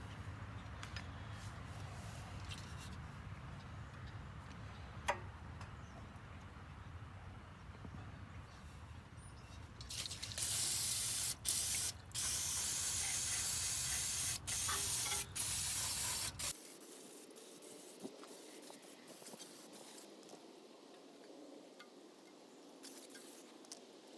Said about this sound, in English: So you want to be sure to spray that down real good.